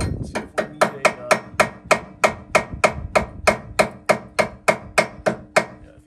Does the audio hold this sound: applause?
no